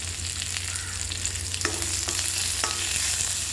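Chili and capsicum sauté in a hot pan for chutney, a steady close sizzle with occasional scrapes and stirring knocks, no voices.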